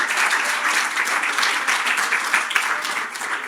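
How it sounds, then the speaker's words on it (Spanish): A church congregation breaks into applause for God during a service, a dense, continuous burst of many hands clapping close and loud, holding steady throughout. "¿pueden darle un aplauso a Dios?"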